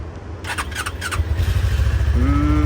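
A motorcycle engine cranks with a few sharp bursts, then catches and settles into a loud, steady idle with a rising whine near the end.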